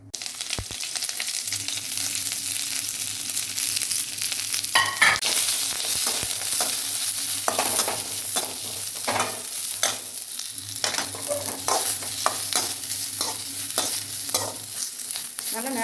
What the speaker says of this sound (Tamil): அடுத்தது எண்ணெய் ஊற்றிட்டு பிரண்டையும் வதக்க போகிறாங்க